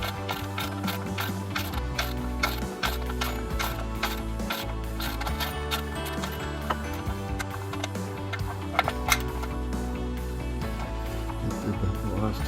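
Ratchet wrench tightening a bolt during an oil change on a 1986 Mercedes 560 SL, a steady stream of fast, close clicking with no one talking.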